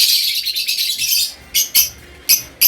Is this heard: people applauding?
no